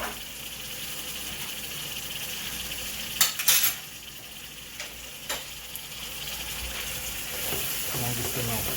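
Garlic and ginger sweating in a pan for brown stew chicken, giving a steady soft sizzle with a few sharp utensil clinks and scrapes from stirring.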